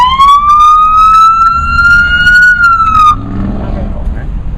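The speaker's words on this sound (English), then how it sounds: "not only do you want the lights, but you will get the siren as well" A police car siren sounds loud and close, a sustained rising wail that cuts off abruptly after about three seconds into a rumbling engine and road noise.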